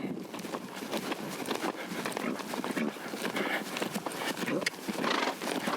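A horse lopes at a slow, steady pace, its hoofbeats a dense run of soft thuds close by, with a continuous voice talking over them.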